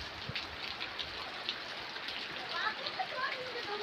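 Steady rain falling on a rainy day, a dense hiss of drops with scattered splashes throughout, heard alongside voices.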